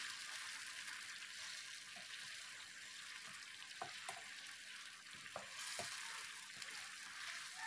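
Flour-battered fried eggplant sizzles and fries steadily in a hot pan, with occasional scraping stirs and light clinks of a utensil.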